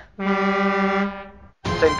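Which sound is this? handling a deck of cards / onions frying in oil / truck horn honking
truck horn honking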